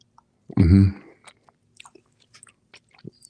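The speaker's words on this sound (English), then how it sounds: "I'm chewing super loud" Loud close-up chewing and crunching of food, one strong burst of munching followed by quieter scattered mouth clicks and small bites.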